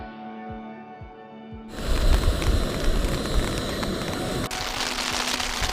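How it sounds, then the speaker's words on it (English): Heavy rain drumming on a tent in the Wind River mountains, starting suddenly as a dense, loud, continuous patter and holding steady, close around the listener, with no talking. "It's raining."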